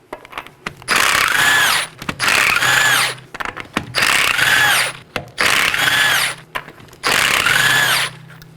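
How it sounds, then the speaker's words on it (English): Rear lug nuts, 19mm, come off a 2018-2024 Chevrolet Equinox wheel with a power tool in five loud, close whirring bursts, each about a second long and separated by short pauses, with no talking. "let's go ahead and remove our right rear wheel. There are 5 19mm lug nuts."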